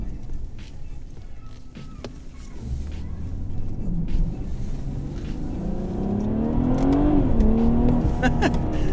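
BMW 340i Sport xDrive with a ZF 8-speed gearbox accelerating hard, engine rising steadily from inside the cabin with a quick shift dip near the end, people talking briefly over it.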